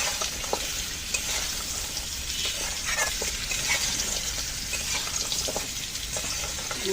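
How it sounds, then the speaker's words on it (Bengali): Crab, potato and pumpkin frying in a pan for a Bengali crab curry, a loud continuous sizzle with occasional clicks of stirring throughout. "এখন দিয়ে দিচ্ছি কুমড়োগুলো, কুমড়ো দিয়েও ভালো করে কষিয়ে নেব।"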